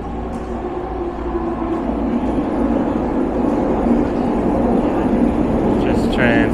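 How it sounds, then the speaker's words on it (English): Train pulling into an outdoor urban transit station near Vancouver's Waterfront, a continuous low rumble that grows slightly louder as it nears, with a faint high squeal near the end. "Oh, here comes another train."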